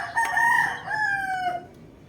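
A Boston round head gamecock rooster crows once, close and loud, in a long wavering call that fades toward the end. No one speaks.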